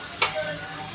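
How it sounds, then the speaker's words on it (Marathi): Chopped vegetables sizzle in a hot pan while being sautéed for upma, a steady frying hiss with a sharp stirring scrape near the start, close and alone. "इथे आपले भाज्या 2 ते 3 मिनिटं परतत आहे"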